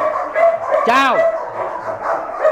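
A Malinois dog at a Vietnamese training kennel gives a single sharp bark on command, close and loud, amid handler speech and background noise.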